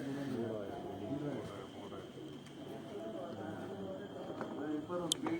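Pigeons coo steadily from a rooftop loft in Amra Kalan, Dinga, low repeated throaty calls close by, with talk running underneath and a brief sharp click near the end.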